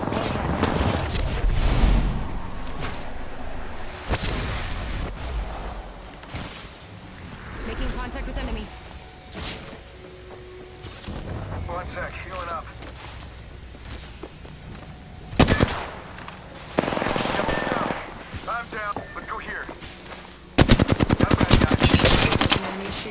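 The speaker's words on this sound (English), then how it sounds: "Shot fired, and they're hitting me." Bursts of automatic gunfire crackle through a battle royale shooter match, loud rapid volleys recurring across the stretch, with someone talking over and between the shots.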